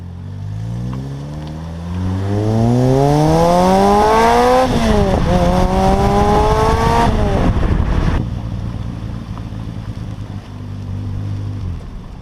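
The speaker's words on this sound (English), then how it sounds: "Just go out, have a good time driving the car, make sure you get it all up to temperature" A car engine, driven to warm up before winter storage, revs loudly and close as it accelerates through several rising gear pulls, then settles into a steadier lower drone.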